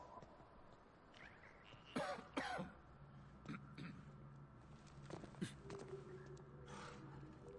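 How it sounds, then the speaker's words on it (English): A character in the video game The Outer Worlds coughs and clears their throat in a couple of short, sharp bursts, then quieter rasps follow over a low background hum. "Is that me coughing?"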